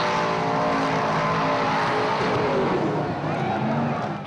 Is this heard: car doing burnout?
yes